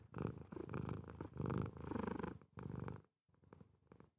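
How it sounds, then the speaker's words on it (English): A cat purrs loudly and close up, the rumbling purr swelling and fading in rhythmic breaths, with a brief pause before it resumes. "She's such a loud purr."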